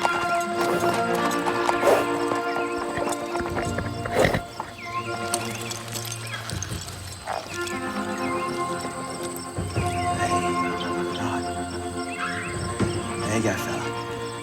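Horse hooves clip-clop steadily outdoors alongside occasional whinnies, with speech breaking in over the rhythmic footfalls and faint insect-like background noise throughout.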